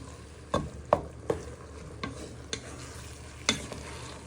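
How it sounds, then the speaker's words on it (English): Pork fried rice with egg stirred in a pan, with a few sharp spatula scrapes and taps spaced irregularly over a soft steady sizzle, close and moderately quiet. "you want to warm your eggs up for 2 to 3 minutes in your pork fried rice"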